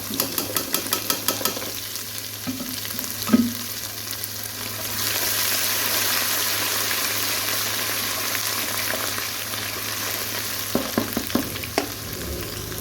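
Oil sizzles steadily as garlic and ginger paste fries, with occasional scraping and stirring clicks from a utensil against the pan.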